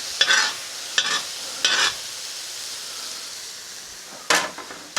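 Beef stir fry in a cast iron wok sizzles softly in the background while several short, sharp scraping bursts of stirring break through, clustered at the start and again near the end.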